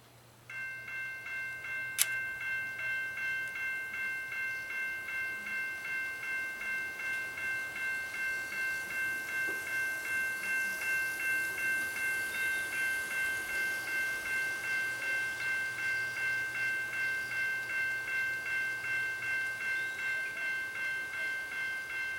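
A Kato N scale automatic crossing gate rings with a steady, even pulsing alarm tone, while a small model train hums quietly past, sounding close and constant throughout.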